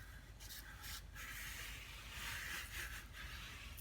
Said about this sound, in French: on n'hésite pas à appuyer pour que le sucre entre dans la pâte